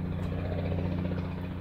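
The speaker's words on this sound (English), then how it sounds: "There goes a helicopter." A helicopter drones overhead with a steady low rotor rumble throughout, fairly loud and continuous, with no voices.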